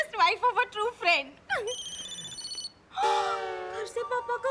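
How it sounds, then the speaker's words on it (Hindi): A telephone rings with a steady electronic bell-like tone in a Hindi TV serial scene, sounding twice between stretches of close dialogue; people talk before, between and after the rings. "नहीं प्लीज फोन उठाओ"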